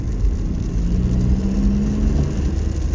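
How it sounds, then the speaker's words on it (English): A Toyota Land Cruiser 250's four-cylinder engine, fitted with an SXTH Element intake, gets a light blip of throttle and gives off a steady, fairly loud low rumble with a slight rise in pitch, and no one speaks. "you would get kind of like a lower rumbling noise, and that's what I hear in this"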